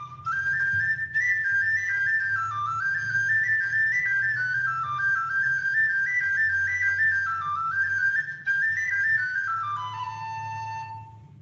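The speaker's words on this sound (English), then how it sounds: "That was a penny whistle, which is a little metal whistle." A penny whistle, a small metal whistle, plays a clear, close melody of bright wavering notes that rise and fall in a continuous line, ending on a held lower note as the sound fades.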